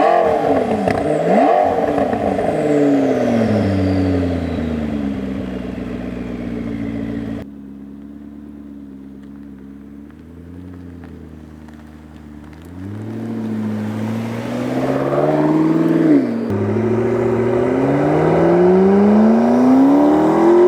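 A 2013 McLaren MP4-12C Spider on a test drive, its engine revving up through rising gears, easing off to a lower drone, then pulling hard again with loud, climbing exhaust tones.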